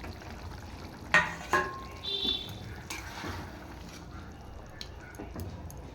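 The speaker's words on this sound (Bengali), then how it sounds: "ঝোলটা ফুটে গেছে, এবার আমি মাছগুলো দিয়ে দেব।" Pieces of fish dropped into a boiling curry in a home Bengali kitchen, giving a couple of soft plops and splashes followed by a quiet bubbling simmer and faint clinks.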